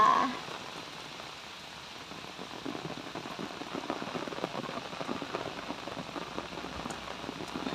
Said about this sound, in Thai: ว้าวบรรยากาศฝนตกนะคะวันนี้เราก็จะได้บรรยากาศช่ำๆเย็นๆ